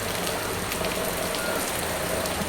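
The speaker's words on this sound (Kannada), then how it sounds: "ಭರ್ಜರಿ ಹೊಡಿತೈತಿ ಮಳೆ." Heavy monsoon rain pours down steadily on a farm, a dense, loud, unbroken hiss of drops hitting the ground and surfaces with no voices.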